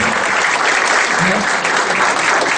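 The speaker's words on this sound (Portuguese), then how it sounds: "uma salva de palmas para a Lidiane aí." Dense, loud applause fills a sales training session, steady and continuous throughout with no break, a broad wash of many hands clapping together.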